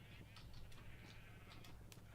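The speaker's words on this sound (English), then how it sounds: "In this little corner, in this little valley, there's like so many sheep back here." Sheep bleat in a Minecraft game world, several short bleats scattered over a faint background, fairly quiet and without speech.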